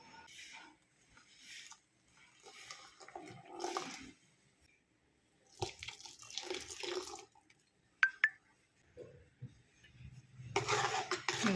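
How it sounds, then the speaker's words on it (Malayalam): A spice paste thinned with water is poured into a pot of Kerala-style clam curry, heard as quiet, intermittent pouring and swishing bursts with an occasional utensil clink against the pot. "വെള്ളമൊഴിച്ച് കലക്കി ഒഴിക്കാം"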